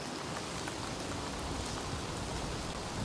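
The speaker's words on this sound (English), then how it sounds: "Okay, it's raining." Steady rain falls continuously in the video game Dying Light 2, a soft even hiss of drops pattering without pause and no other sounds.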